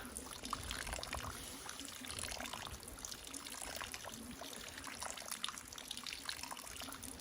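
Water from a tap pours steadily into a pot outdoors in the woods, a continuous close splashing rush with no talking.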